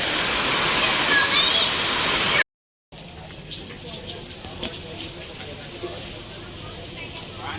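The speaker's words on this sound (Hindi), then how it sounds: "ये जितना भी शोर आ रहा है सारा बारिश का आ रहा है।" Heavy rain pours down outside a deep metro station during flooding, a loud continuous hiss filling the first two seconds, then a duller, steady wash of rain with scattered clatters and bumps after a brief cut.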